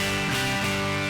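A buzzy, harsh distorted electric guitar chord through the Nembrini BG-EXTASY amp plugin with no speaker impulse loaded rings out briefly, thin and fizzy, then cuts off abruptly.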